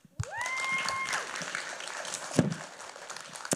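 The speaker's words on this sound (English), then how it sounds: "Please join me in a round of applause" Audience applause at an event on LA Made VC Archives stories across generations, a steady wash of clapping that fades after a few seconds with a faint whistle near the start.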